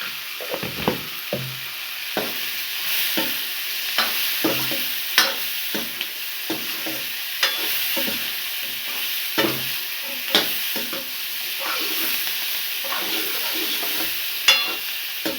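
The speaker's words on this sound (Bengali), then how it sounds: "আলুগুলো ভাজা ভাজা হয়ে গেছে।" Potatoes fry in a pan seasoned with salt and turmeric powder, giving a steady close sizzle broken by repeated scraping and stirring clatters of a spatula throughout, with no talking.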